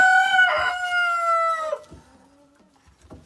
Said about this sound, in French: Et le coq qui chante.